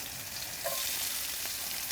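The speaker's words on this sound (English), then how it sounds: "I'm gonna saute the green peppers and onions for" Green peppers and onions sautéing with garlic in olive oil for a Philly-style dish give a loud, steady, hissing sizzle with a brief stirring scrape, close up and uninterrupted by voices.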